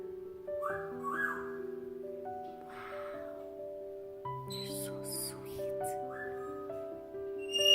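Whistled, squawky calls from a Senegal parrot in the background, rising and falling tones repeating over several seconds with some faint talk.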